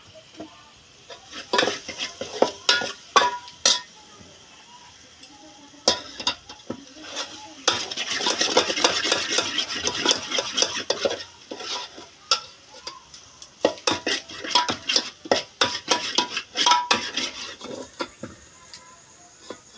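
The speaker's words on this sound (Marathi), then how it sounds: "मसाला आपला चांगला फ्राय झाला आहे" Masala sizzles as it fries for a village-style chicken rassa cooked over a wood-fired chulha, with repeated scraping stirs of a spoon against the pot coming in close, busy bursts over the steady hiss.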